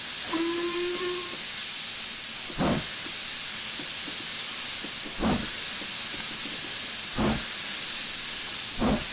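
An Austerity J94 steam locomotive in Train Simulator 2016, starting at Porth with a heavy train, hisses steadily from its open cylinder cocks. A brief whistle sounds at the start, and soft exhaust chuffs come at slow, regular intervals.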